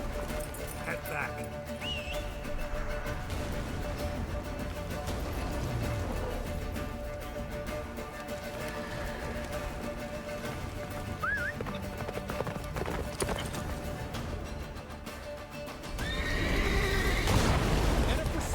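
Geralt's horse Roach galloping in The Witcher 3, a fast, steady drumming of hooves with whinnies, under game music, shouted dialogue and rushing blizzard wind that swells near the end.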